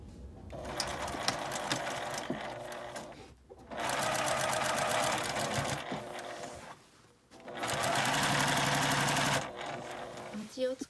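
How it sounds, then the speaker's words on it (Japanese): A sewing machine stitches the side seams of a tote bag with a 1 cm seam allowance, running in three steady bursts of rapid mechanical chatter separated by short pauses. "両端を1センチの縫い代で縫います。"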